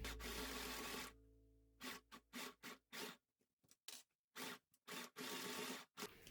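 A mini sewing machine stitches a straight shoulder seam on homemade clothing in short bursts of fast mechanical whirring, a long run followed by a dozen quick start-stop pulses with near silence between, close and alone.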